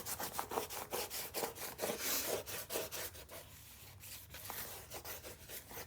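Tape pressed onto a paper craft page is burnished with quick, rhythmic rubbing strokes that scrape back and forth steadily and up close, with no talking.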